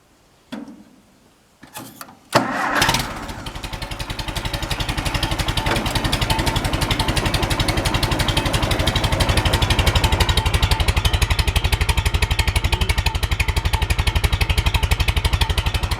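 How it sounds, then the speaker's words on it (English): An Allis-Chalmers tractor fitted with a Stanley muffler cranks with a few sputtering bursts, catches, and settles into a steady, rapid, evenly pulsing idle close by, with no talking. "So we'll start the tractor up at idle with the Stanley muffler"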